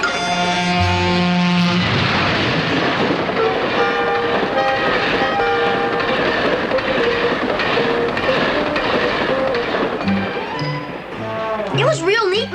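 A train rolls along rails with a continuous loud rumble and rhythmic clatter, a steady tonal hum on top, and people talking over it near the end.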